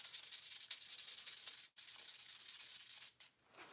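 Briar tobacco pipe being hand-sanded, a steady close abrasive rasp with quick back-and-forth strokes, briefly pausing midway and easing off near the end.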